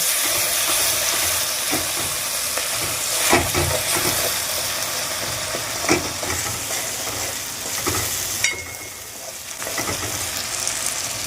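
Katla fish with salt and turmeric sizzles loudly in a pan while being stirred, a steady hissing fry with occasional scraping strokes of the spoon, close and continuous.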